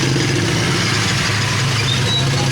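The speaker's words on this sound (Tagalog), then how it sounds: "Pasensya na po kayo kay maingay dito, gawa ng mga sasakyan." Continuous traffic on a busy Divisoria street in Manila, a steady low engine rumble of idling and passing vehicles, loud and close, with a faint squeak and no voices.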